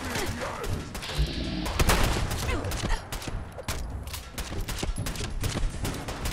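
Rapid bursts of gunfire in Fallout 4 crackle loudly and near, with a dense volley building around the middle before thinning into scattered separate shots.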